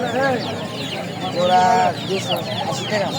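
Chickens, including native desi hens and chicks, clucking and cackling amid a busy crowd of talking voices at a traditional poultry market, the birds close and fairly loud with overlapping calls.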